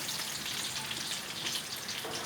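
Zucchini slices sizzle steadily in hot oil for mixed fritters, a continuous close crackling hiss with no talk over it.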